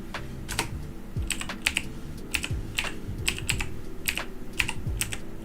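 Quick, irregular keystrokes tapping on a computer keyboard, close and clear, clustered in short bursts with small pauses between them and no talking.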